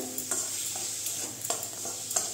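Masala with chili powder being sautéed for Bengali chicken ghugni, a close steady sizzle with a few quick scraping stirs across the pan, no voices.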